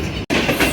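Train noise heard from inside a moving rail car near Shahdara as another express overtakes, a loud rumbling clatter with a brief dropout and metallic wheel squeal, close and continuous.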